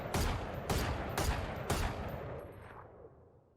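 Four evenly spaced gunshots from a gun in the video game Valorant, sharp and punchy, each trailing a short echo, with the last shot's tail fading out slowly, no voices.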